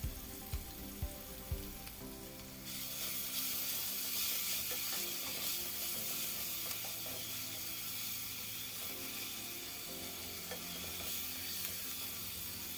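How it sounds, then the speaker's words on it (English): Onion and garlic sauteing in a pan for a bitter beef innards soup, a steady close sizzle and hiss that swells louder after a few early stirring knocks, with no voices. "Stir until translucent, and then saute the garlic"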